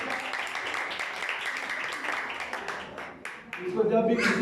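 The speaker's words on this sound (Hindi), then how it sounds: "तो इनके लिए तालियां बजाएं दो" Applause from a crowd greeting a guest at a Christmas Day gathering with children's singing, a dense steady clapping that runs for several seconds, dips briefly, then swells louder at the end.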